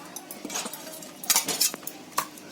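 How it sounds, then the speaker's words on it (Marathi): A utensil beats omelette appe batter of egg and curry leaf pieces in a bowl, giving quick metallic clinks and scrapes in uneven bursts, louder clusters in the middle, close and alone without talk. "हे सर्व मिक्स करून असं चांगलं फेटून घ्यायचं"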